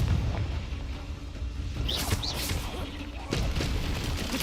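In Hogwarts Legacy, a Confringo blasting spell lands with booming, crackling bursts amid rolling battle noise, with sharp impacts clustered in the middle and another strong hit toward the end.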